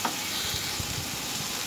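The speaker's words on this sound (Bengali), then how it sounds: "শুকনো লঙ্কাটা দেওয়ার পর 1 মিনিট আমি ভালোভাবে একটু ফ্রাই করে নেব" Dried red chillies fry in oil in a pan as lanky chilli pakoras are prepared, giving a soft, steady sizzle with faint stirring clicks, heard alone and fairly quiet.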